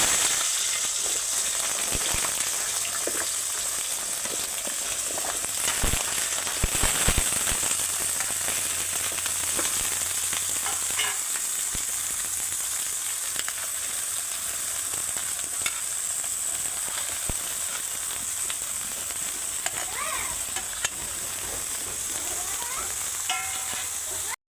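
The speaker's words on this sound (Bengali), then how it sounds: "এখন আমি তরকারিটা দিয়ে দিলাম।" Mixed vegetables fry in hot oil with bay leaf, dried red chilli and five-spice, giving a steady loud sizzle broken by scraping stirs and occasional clinks of the utensil.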